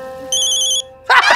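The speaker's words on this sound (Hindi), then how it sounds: "लेकिन पहले देख लो किसका फोन है।" Short electronic phone ringtone with a bright repeating tone pattern, loud and close, ending abruptly as a voice begins.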